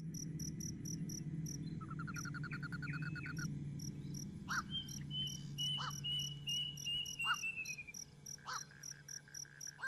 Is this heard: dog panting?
no